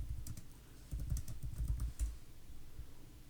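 Keystrokes on a computer keyboard while editing text in an iOS dice app project, a quiet run of irregular clicks bunched in the first two seconds, then fading into low room noise with no talking.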